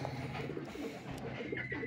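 Racing pigeons coo softly and intermittently in a loft, with low murmuring calls and faint background rustling.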